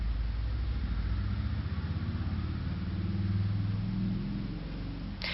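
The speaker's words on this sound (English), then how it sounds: "my stepdad is leaving right now and he's going on his motorcycle" A motorcycle engine rumbles steadily nearby as it leaves, a low throbbing drone that shifts slightly before easing off at the end.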